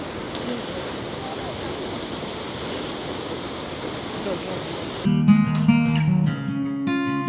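Waterfall in Iceland at night, a steady broad roar of rushing water with wind buffeting the microphone, joined near the end by a louder burst of music or tones over the rush.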